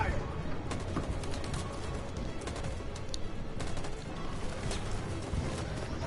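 Scattered gunfire in the video game Detroit, sharp shots and crashes over a busy, noisy background with a voice talking throughout.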